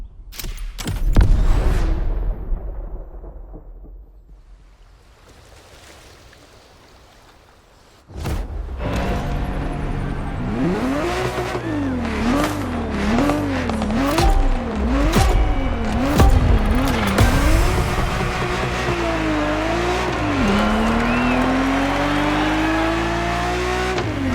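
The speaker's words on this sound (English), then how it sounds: "I'm talking about the Ferrari 365 GTB4, also known as the Ferrari Daytona." Ferrari 365 GTB4 Daytona in the racing game The Crew Motorfest, an engine roaring loud and close, rising and falling through repeated revs and gear changes after a brief quieter stretch, with occasional tire squeal.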